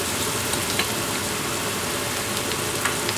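Ginger garlic paste sizzles and fries steadily in a pan with browned onions, a dense continuous crackle with a few small pops, close and even throughout.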